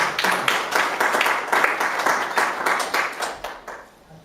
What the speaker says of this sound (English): Let's give him a quick round of applause.